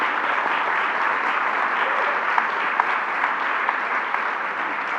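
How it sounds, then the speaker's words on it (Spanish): An audience claps steadily throughout after a panel discussion on collaborative sustainability culture, a dense, even applause at moderate loudness with no voices standing out. "les pido un aplauso"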